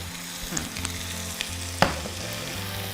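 Capsicum and other vegetables sizzle in a pan of tomato sauce, a continuous bubbling fry with a few sharp clinks of a spoon against the pan, close and alone without talk.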